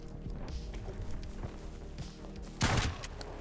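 A shotgun fires in the game Active Matter, one loud sharp blast standing out near the end above a busy background of footsteps and distant shots.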